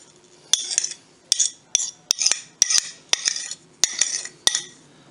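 Apple crisp ingredients being mixed in a bowl, with a series of about eight sharp utensil clinks and scrapes against the bowl, close and fairly quiet, with short pauses between strokes and no talking.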